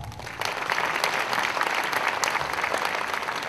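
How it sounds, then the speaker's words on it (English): An audience applauds steadily after a students' cultural performance at a college launch event, a dense even wash of clapping hands that holds at full strength with no voices standing out. "Let us give the students another round of applause."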